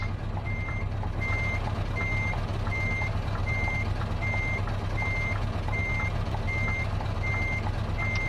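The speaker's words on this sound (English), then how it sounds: "is that my buzzer for the brakes?" Warning buzzer in a Scania 10x4 730 V8 truck in Euro Truck Simulator, a regular series of short high beeps repeating about twice a second over a steady low engine drone.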